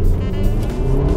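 A 2015 Mercedes-Benz GLA250 4Matic accelerating from a stop, its engine a steady, loud, rising drone heard from inside the cabin with no talking.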